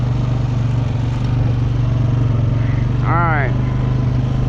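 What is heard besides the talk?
four-wheeler ATV engine running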